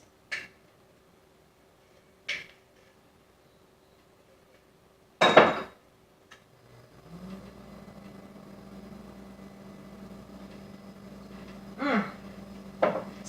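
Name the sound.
spoon scooping caramel sauce for blended coffee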